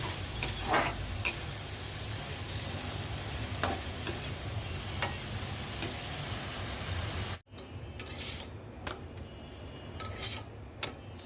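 Vegetable stems sautéing in a hot pan, a continuous bright sizzle with scattered stirring scrapes and clinks, briefly cut off partway before the frying resumes, a little quieter; no talking.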